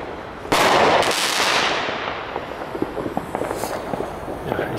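WECO Stardust compound firework battery going off outdoors, a loud whooshing launch followed by a dense run of crackling pops and bursts that fade into scattered reports.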